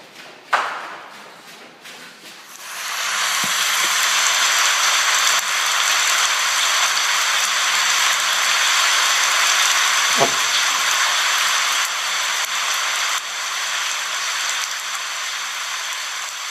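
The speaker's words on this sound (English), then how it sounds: "It was raining. It was really raining. In fact, I would almost go as far to say it was a tropical storm outside" Heavy tropical rainstorm in Thailand, a dense, loud, continuous roar of pouring rain that swells in after a few seconds of quiet and a sharp knock, then holds steady with a faint tap partway through.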